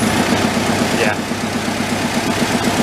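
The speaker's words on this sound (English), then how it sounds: "I think it might be just because it's idling too low" An antique tractor engine idles too low with a steady, close, rumbling throb and a constant low vibration throughout.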